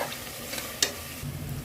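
Tomatoes and salt go into a frying pan for a boti curry, giving a soft sizzle with a quick stirring scrape and a slight rise in frying noise toward the end.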